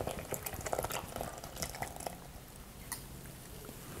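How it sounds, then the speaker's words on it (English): A milk mixture is poured into all-purpose flour for pancake batter, giving a soft, irregular run of wet splashing and trickling that eases off toward the end, with no voices. "Now I'm gonna go ahead and put my milk mixture into my all-purpose flour."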